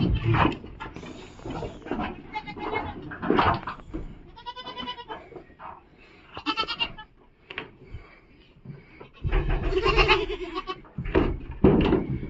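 Several goats and their kids bleat in short, wavering calls during nursing, some near and loud, others softer, with pauses of quiet between them, in a village.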